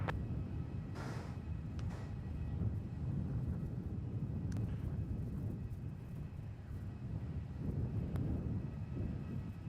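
A Jetstar Airbus A320 takes off from Melbourne Airport, a distant, broad engine roar that holds steady across the clip, with some wind noise on the microphone.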